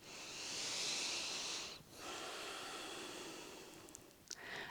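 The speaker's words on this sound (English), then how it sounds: "let's do one more circular breath" A slow, deep breath in a morning breathing exercise comes as a soft, airy inhale and a long exhale, a brief pause between them, close and quiet with no speech.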